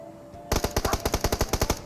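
Rapid automatic gunfire from the video game PUBG Mobile: a burst of about a dozen evenly spaced, loud shots starts after a short quiet pause and continues to the end, with no talking.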